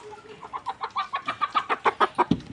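Several chickens cluck in a quick, rising series of short, close calls, alone with no talk.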